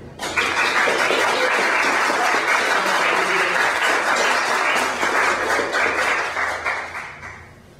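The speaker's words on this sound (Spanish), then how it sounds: "no me da un aplauso para esto" Audience applause at a talk on turkey domestication in Mexico, a dense, even burst of clapping that starts abruptly, holds strong for about seven seconds, then tapers off.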